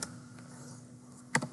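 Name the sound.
typing on a computer keyboard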